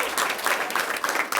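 Audience applause at Oregon Governor Brown's signing of the Fair Shot legislation, a short, dense burst of clapping that stays fairly steady with a slight swell near the end.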